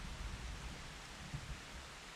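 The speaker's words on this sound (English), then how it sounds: "I feel like it's fitting that it's dark and raining." Steady rain falls throughout in Final Fantasy XIV: Shadowbringers, a soft, even hiss of a dark downpour with no voices over it.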